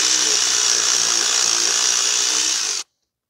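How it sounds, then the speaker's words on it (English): A power tool, likely an impact wrench, whirs loud and steady while loosening the nut on the front lower control arm of a 2006 Mazda 3 2.3, then cuts off abruptly into silence. "So I'm using a wrench in the back. So I'm going to take off the nut."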